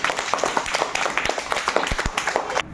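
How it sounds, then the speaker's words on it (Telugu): A burst of quick, uneven clapping from several hands, close by, with a faint voice mixed in before it stops abruptly. "Very good. Clap her."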